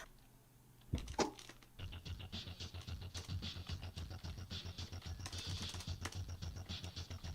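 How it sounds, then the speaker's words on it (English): Rapid typing on a keyboard held in a lap, a steady close patter of clicking keystrokes running continuously after a brief louder bump at the start. "I'm typing in my lap."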